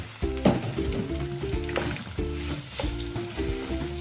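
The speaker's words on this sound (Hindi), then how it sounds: "इसको हम फ्राई कर लेंगे और जितनी देर में हमारी भिंडी फ्राई हो रही है" Sliced okra fries in hot ghee with a crackling sizzle and occasional stirring, partly masked by steady background music.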